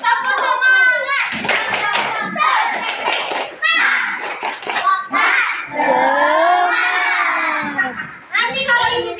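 A fourth-grade class performs a rhythmic clapping chant, children's voices chanting loudly together between sharp bursts of unison hand claps in a classroom.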